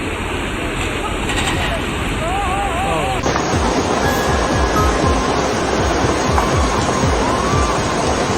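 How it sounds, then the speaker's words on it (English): Heavy ocean waves pound a cruise ship at sea en route to Ireland, a steady loud roar of surging water and wind with crashing bursts, and a brief whistling tone early on. "this cruise ship was on its way to Ireland when it ran into some pretty heavy waves"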